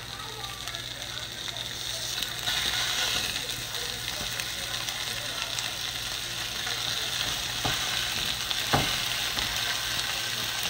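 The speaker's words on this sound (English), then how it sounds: "And start frying." Butterflied breakfast-sandwich meat fries in a pan with a continuous crackling sizzle, steady and fairly close, with a few sharper pops and clicks from the pan.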